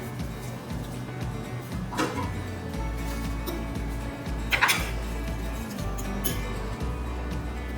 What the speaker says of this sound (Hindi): अब इसको अच्छे से मिक्स कर लेते हैं।